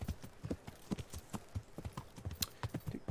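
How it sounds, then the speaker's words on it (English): Horse hooves in the video game Kingdom Come: Deliverance, a quick, even clip-clop of galloping at moderate distance, fairly faint and with no voices. "we get to go through Rattay on our horse"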